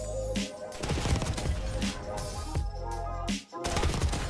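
PPSh submachine gun in a video game firing in rapid bursts, loud, dense and continuous, with a couple of brief gaps between long volleys of shots.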